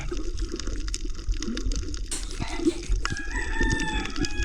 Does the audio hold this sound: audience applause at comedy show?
no